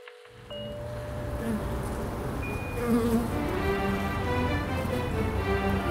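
Honeybees buzz steadily and up close, a dense droning hum that swells slightly partway through and continues without any voices.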